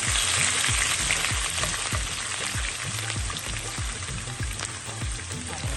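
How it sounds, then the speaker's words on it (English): Onions, peppers and tomatoes sautéing in a pan, a continuous close sizzle and fry with scattered crackles and soft stirring, with no voices. "Meanwhile, I'm gonna saute in my onions, peppers, and tomatoes"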